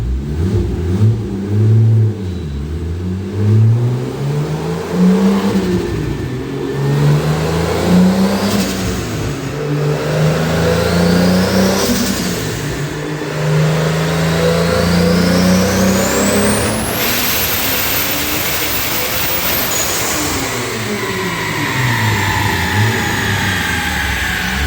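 A big-turbo 2JZ engine in a Mk4 Supra roars on a dyno, loud and close, climbing steadily through the gears in long sustained pulls with repeated rises and drops in pitch and no break in the noise.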